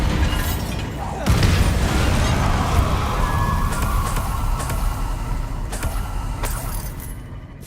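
A Bombarda spell explosion in the video game Hogwarts Legacy hits with a sudden loud burst, then rumbles on as a sustained blast under the game's sound effects.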